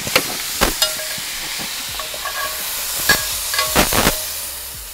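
Wapiti shoulder bulgogi frying hard and fast in a hot pan, a steady loud sizzle and hiss with occasional stirring clanks and pops, close up and without speech.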